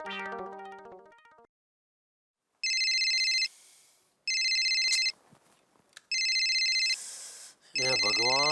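A telephone rings four times in regular synthetic electronic bursts with gaps between, loud and close. Other electronic tones come before the rings, and a brief electronic tone plays between them, in a Hindi comedy scene with no talk over the ringing.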